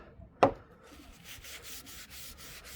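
Hand rubbing finish into a wooden sign: one sharp knock followed by a soft, steady rhythmic scuffing, close up and fairly quiet.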